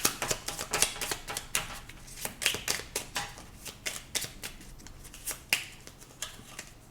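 Small oracle cards being handled and shuffled on a table, a quick run of crisp, dry flicks and taps in irregular bursts, close and fairly quiet, with no talking.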